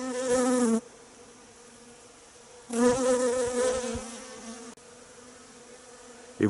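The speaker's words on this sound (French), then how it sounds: "on peut être à 10 cm des abeilles, elles ne cherchent pas à nous piquer" Honeybees buzz at a hive in winter, heard very close. A loud droning swarm comes in two bursts, and a faint hum carries on between them. No one speaks.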